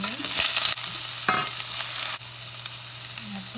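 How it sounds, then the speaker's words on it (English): Onions frying in oil in a hot pan with cinnamon, cloves and cardamom, a steady close sizzle with brief stirring clatters, no voices. "fry the onions till they are lightly golden brown"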